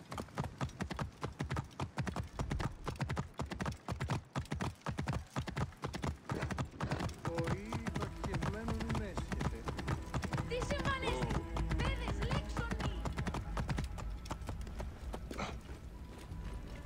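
Horse hooves in Assassin's Creed Origins clip-clop in a fast, steady rhythm, clear and close, later joined by rising in-game music, with a voice speaking over them.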